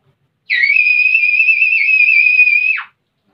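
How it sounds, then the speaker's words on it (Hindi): A shepherd's sharp, steady whistle used to signal a sheep flock to start moving, one loud sustained high-pitched note lasting about two seconds alone in silence, ending with a quick downward drop. "तो सीटी कैसी बजाते हैं जरा बतलाएं कि वो चलने लग जाए।"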